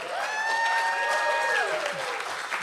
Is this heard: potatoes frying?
no